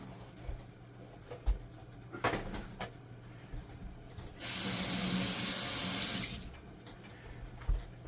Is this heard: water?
yes